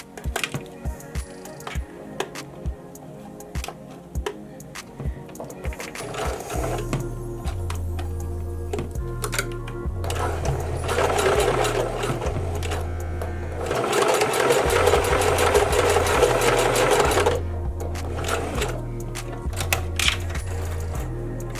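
A sewing machine stitching hair weft tracks held together, with a loud, close mechanical rattle that surges in steady bursts of stitching separated by brief pauses, and no one speaking.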